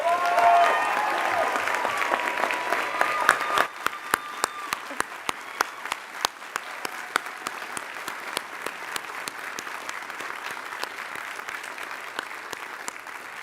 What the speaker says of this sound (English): Please join me in acknowledging Professor Grossbauer's achievement with a round of applause.